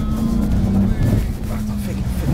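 The engine of a Dodge RAM TRX pickup (712 hp) rumbles loudly and rises in pitch as the truck drifts across rough off-road terrain, with an excited voice talking over it throughout.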